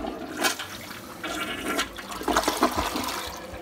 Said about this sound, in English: So right now, if we flush the toilet,